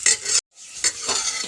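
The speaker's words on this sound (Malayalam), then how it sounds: "അതിൽ എണ്ണ ഒഴിച്ച് സവോള, പച്ചമുളക്, ഇഞ്ചി, വേപ്പിൻ്റെ ഇല ഒക്കെ ഇട്ട് ഒന്ന് വാടി വരട്ടെ" Sliced onion, green chili, ginger and leaves sauté in oil in a pressure cooker. There is a short burst of sizzling and utensil scraping, broken by a brief silent gap, with no voices.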